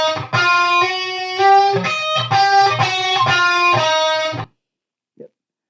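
Distorted electric guitar playing a chromatic lick, a run of sustained overdriven notes stepping along for about four seconds before cutting to silence, close and alone.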